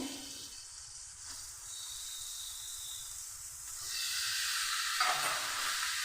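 Chicken pieces go into an oily fried spice masala for chicken kosha, raising a soft steady sizzle that swells louder partway through, with a brief utensil scrape near the end.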